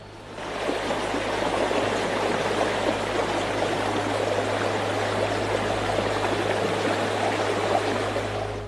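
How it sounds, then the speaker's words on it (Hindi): Fast flood water rushes across a road in a dense, steady roar, loud and close, unbroken for several seconds with no voices. "पानी की धार इतनी तेज है कि यहां पर कदम बढ़ाना मुश्किल है"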